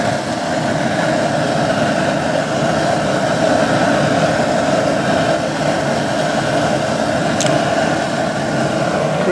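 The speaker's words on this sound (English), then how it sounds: "So my flame is running a little low." A gas burner flame roars steadily under a brew kettle during a large 83-litre homebrew batch, giving a loud, continuous, even rushing noise with no pauses and no voices.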